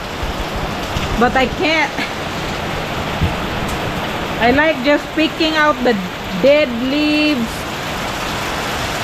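Rain falls steadily outdoors near a garden, a constant hiss that fills the background while a person talks in short bursts over it.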